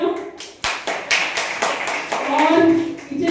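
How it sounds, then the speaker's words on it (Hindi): Children and an audience clap at a school event with students standing in as teacher and principal for the day, a burst of separate hand claps with a few irregular taps and some chatter mixed in. "जोरदार तालियां।"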